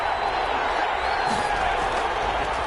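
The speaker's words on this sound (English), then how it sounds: "Crowd getting in it a bit already" A stadium crowd at a video game football match roars with a steady, dense cheer throughout, loud and continuous, with a commentator's voice faintly mixed in.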